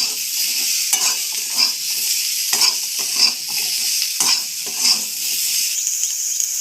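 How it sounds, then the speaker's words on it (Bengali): Vegetables frying with salt and turmeric in a hot pan, with a steady close sizzle and a spatula stirring and scraping at a fairly regular rhythm, and no talking. "হলুদ দিয়ে আবার একবার সবজিগুলো ভালোভাবে ভেজে নেব"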